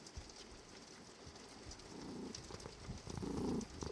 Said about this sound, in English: He's curled up next to me, purring